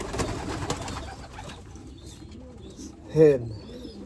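A racing pigeon hen gives a single short coo near the end, against soft handling noise and murmured talk in the background.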